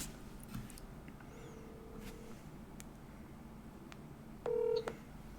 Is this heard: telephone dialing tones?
yes